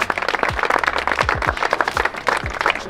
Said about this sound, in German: Ein riesen Applaus, sie haben gekämpft heute